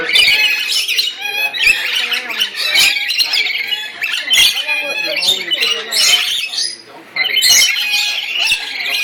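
Many birds squawk loudly and continuously from close by in a crowded space full of birds, with dense overlapping calls and chirps throughout.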